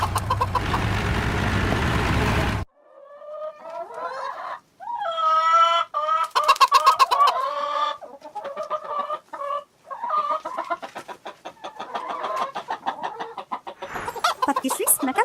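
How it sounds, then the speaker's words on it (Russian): A hen clucks on a farm in a steady run of short, throaty clucks broken by a few drawn-out cackles, near and fairly loud, following a brief burst of noisier sound at the start. "Курица."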